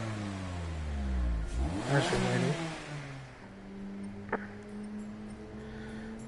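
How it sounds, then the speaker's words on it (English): Race car engines rev and surge on the grid before a race in GT Sport, with rising and falling engine whines layered together, mid-loud, while a person speaks briefly. "you can hear the engines rev up"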